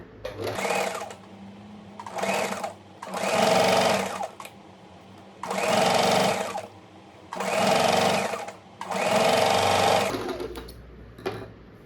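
A sewing machine stitches a deep neck blouse in six loud, close bursts of rapid whirring, each roughly a second long, with brief pauses for reversing between them.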